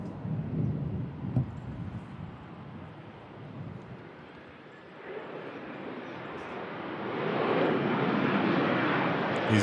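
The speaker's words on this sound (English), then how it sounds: "EasyJet holidays arriving in from Amsterdam" An EasyJet holidays airliner arriving from Amsterdam gives a distant, rumbling engine roar that dips midway and then swells louder toward the end, mixed with wind buffeting, with no talk.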